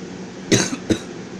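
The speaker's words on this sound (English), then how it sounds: "Sorry about that, still have that cough" Two sharp coughs from a person nearby, the first stronger and the second following quickly, against a quiet background.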